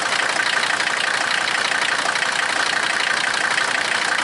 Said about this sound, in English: Will it idle? Ooh, it's very vibraty. Wonder if it's got bad engine mounts or something.